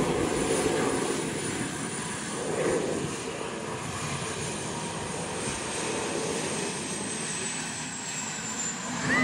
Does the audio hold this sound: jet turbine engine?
yes